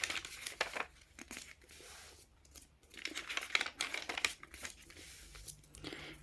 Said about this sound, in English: gently fold these pages into place